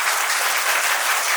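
Brisk applause from a crowd at a village school gathering for the headmaster, a dense, steady clatter of many hands lasting throughout.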